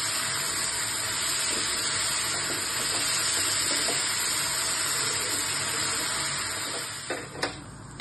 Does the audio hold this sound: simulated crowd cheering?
no